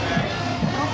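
Dense crowd murmur fills a busy weekend shopping area, a steady wash of overlapping voices and footsteps close around, no single voice standing out.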